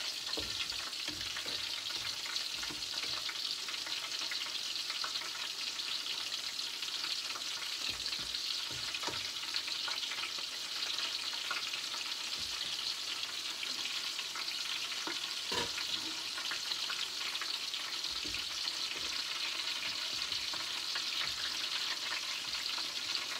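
Apple beignets fry in a pan over low heat, a continuous crackling sizzle with frequent small pops and occasional utensil taps, steady and close-up, and no one speaks.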